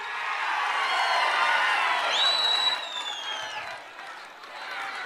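Crowd at a political rally in Markapuram cheering and clapping, a broad, dense roar filling the whole stretch with whoops and a rising shout near the middle, loud and continuous with no clear break.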